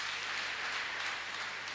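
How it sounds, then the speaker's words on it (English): Church congregation applauding, a steady, dense wash of many hands heard faintly from a distance, with no speech on top. "Shall we clap for Jesus?"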